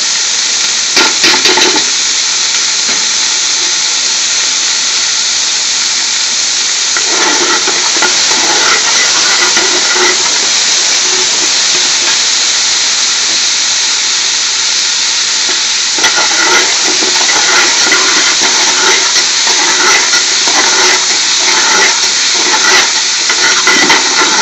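Three large chopped onions fry in a pan for a restaurant-style spinach curry, giving a loud, continuous sizzle and steam hiss that swells with the stirring.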